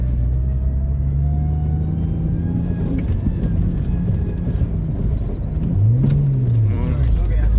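Jeep Cherokee XJ five-speed with a high-mileage engine revving, a loud close rumble with one rising and falling rev, while people talk nearby.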